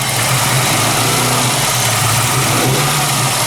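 A Volkswagen Golf Mk3 engine runs loudly nearby, a steady droning rumble that holds at a high, even pitch like a sustained rev.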